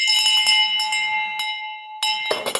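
A single bell rings out bright and clear, its metallic tone holding and ringing on for about two seconds before a second strike and a short clatter close by.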